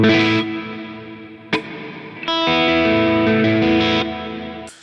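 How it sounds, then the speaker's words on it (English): Electric guitar chords are struck and left to bloom in a big, wide, washy stereo reverb, each strum hanging and fading into a long tail. "And I've also got a stereo reverb, just a big old reverb."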